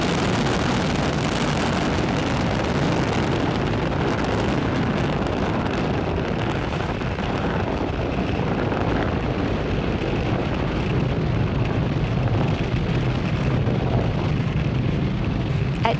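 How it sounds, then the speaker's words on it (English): SpaceX Falcon 9 rocket climbing away from Pad 40 at Cape Canaveral Space Force Station, a steady, loud broadband roar with deep rumble and crackle that holds for the whole stretch. "Falcon 9 has successfully lifted off from Pad 40 at Cape Canaveral Spaceport Station"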